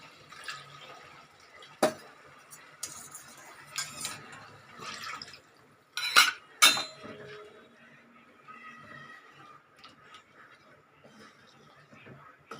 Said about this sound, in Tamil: இப்போ நம்ம இதுக்கு வேண்டிய தண்ணி விட்டுக்கலாம்